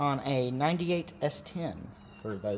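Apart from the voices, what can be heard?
No everyday noises stand out.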